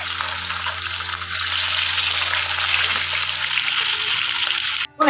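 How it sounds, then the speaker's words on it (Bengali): Fish coated in mustard oil fries in a pan, a loud steady sizzling hiss that holds for about five seconds before a brief drop, close and without talk. "এবার আমি মাছগুলোকে ভেজে নেব।"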